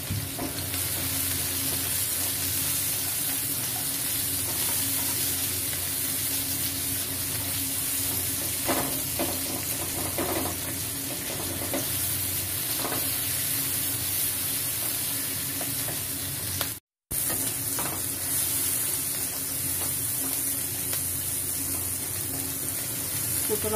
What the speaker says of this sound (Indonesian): ditumis dulu.